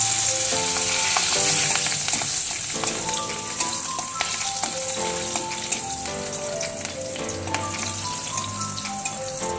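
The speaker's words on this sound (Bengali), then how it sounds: "মাছ ভাজা তেলের মধ্যে আমি দুটো শুকনো লঙ্কা আর কয়েক টুকরো রসুন আমি ভালোভাবে ভেজে নেব" Dried red chillies and garlic pieces frying in hot oil left from frying fish, a steady close sizzle and crackle running throughout with no talk.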